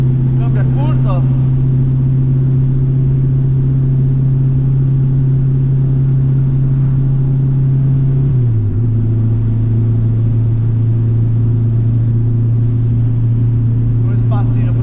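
A Fiat 147 fitted with a turbo drones steadily while driving, its low engine tone dropping slightly as it shifts, with faint turbo whine above and people talking now and then.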